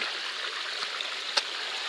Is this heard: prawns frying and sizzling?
no